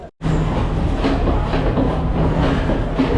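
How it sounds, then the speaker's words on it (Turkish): A train rumbles in loud and close, a steady heavy roar with faint rhythmic clatter and squeals from the wheels. "Bizim kendi treni geldi."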